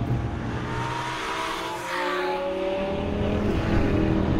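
Lamborghini Gallardo Superleggera LP570-4 with a single-clutch automated transmission, driving: a loud, continuous engine drone heard close, pitch dipping briefly as it shifts and then rising again as it pulls.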